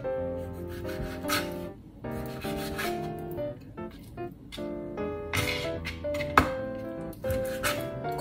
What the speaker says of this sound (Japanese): これを5ミリから1センチ角に切っていきます